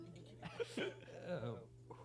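A single person coughs once or twice, short and muffled, with a faint voice and low room hum around it.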